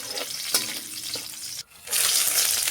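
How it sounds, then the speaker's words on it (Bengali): Cashews and raisins lightly frying together in a pan give a steady, close sizzling hiss with a few soft stirring clicks; it drops away briefly near the end, then returns louder and brighter. "কাজু আর কিশমিশ একটু হালকা ভেজে নিব।"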